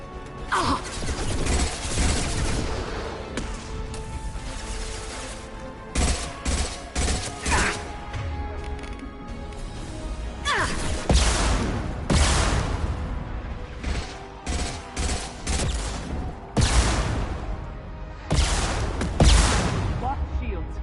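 Rapid bursts of gunfire from a Mass Effect 2 combat scene on PS5, loud, repeated volleys every second or two over a dense wash of game effects and music, with voices speaking between shots.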